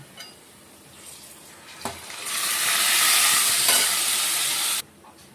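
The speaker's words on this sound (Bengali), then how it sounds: "আমরা ঠিক এই স্টেজে এখানে ম্যারিনেট করা চিকেনটা আমরা এই কড়ার মধ্যে দিয়ে দেবো।" Marinated chicken drops into browned onions in a hot karai for shahi chicken korma, with a knock, then a loud sustained sizzle and hiss that cuts off abruptly.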